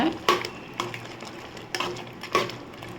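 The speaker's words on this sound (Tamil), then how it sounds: "தேங்காய் விழுதை சேர்த்து நல்லா மிக்ஸ் பண்ணிக்கோங்க" Ground coconut paste being stirred into beef curry in a pan, a spoon scraping in a few distinct strokes over a soft background sizzle, close and moderately loud.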